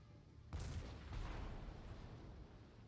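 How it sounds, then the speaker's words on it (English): Warship guns fire in World of Warships. A sudden heavy boom is followed by a second burst and a rolling, rumbling decay, loud against a quiet sea background. "There are multiple ships shooting at me now at the moment"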